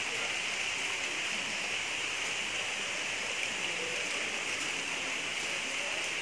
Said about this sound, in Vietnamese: Trời đang rất là mưa to.